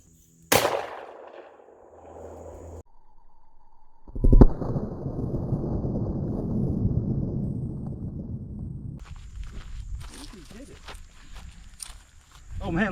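A Rock Island Armory VRPA40 shotgun is test fired outdoors: one sharp, loud blast, then a later report, with wind noise and a voice in between.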